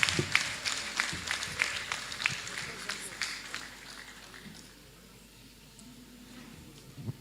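Guests at a Rwandan engagement ceremony clap in a quick dense patter that fades after about four seconds, with people talking over it.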